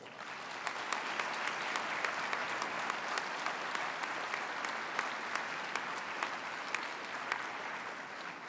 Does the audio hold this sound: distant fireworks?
no